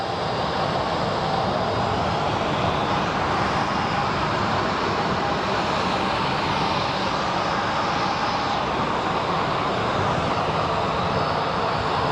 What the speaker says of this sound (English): I guess this is the afternoon rush of planes.